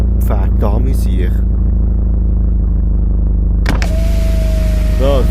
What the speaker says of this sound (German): Could you please open the window?